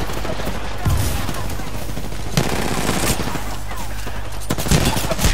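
Rapid video game gunfire rattles in sustained automatic bursts, loud and continuous, with sharper shot clusters near the start, middle and end, while the player's voice comes through faintly in places.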